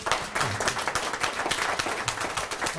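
Audience applause breaks out at the close of a talk on Frank Lloyd Wright, a dense, steady wash of many hands clapping that carries through from start to finish, with no voices over it.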